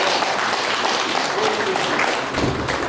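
Dense, continuous applause from a crowd at a Rwandan wedding, a broad wash of many hands clapping at once that stays steady and loud throughout.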